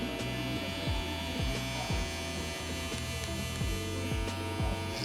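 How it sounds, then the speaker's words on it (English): A Wahl Vapor hair clipper buzzes steadily through a fade haircut, a close, loud electric hum with rhythmic dips in pitch as the blade passes lightly over the scalp. "Like right here, my clipper's barely on his head."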